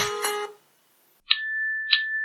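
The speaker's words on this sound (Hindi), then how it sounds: "फाइंड माई डिवाइस में आपको ये रिंगटोन सुनने को मिल रहा है" A phone rings after a smartwatch's find-my-phone feature is triggered, playing the user's set calling ringtone: a brief sound, a pause, then two sharp chime-like tones over a steady sustained note.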